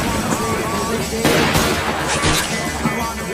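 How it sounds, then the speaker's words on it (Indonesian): Gunfire in an action film set in a prison, where a guard fires on running inmates; sharp broadband shots burst out near the middle over a dense, loud soundtrack with dialogue and music underneath. "Chen melepaskan tembakan yang langsung mengenai salah satu tahanan"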